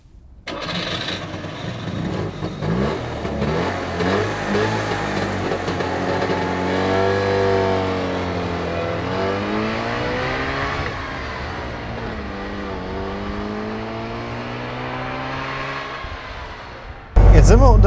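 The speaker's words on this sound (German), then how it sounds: "Sind wir unterwegs im Trabant," A 1990 Trabant 601L car with a two-stroke engine being driven, its buzzing, rattly engine note rising and falling steadily through the gears with a voice talking over it throughout.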